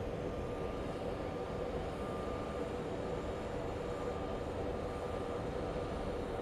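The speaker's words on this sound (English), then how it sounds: "It's actually a WestJet coming in from Calgary, so let's go take a look at the WestJet." A WestJet airliner arriving at Phoenix Sky Harbor at night produces a faint, distant, steady jet rumble that holds evenly throughout, with no speech.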